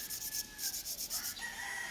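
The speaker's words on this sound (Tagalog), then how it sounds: "Linisin ko lang mga kalitar itong ating kawayan ng liha para makinis" Sandpaper rubs steadily against bamboo in quick, rhythmic back-and-forth strokes, with a faint rooster crowing in the distance.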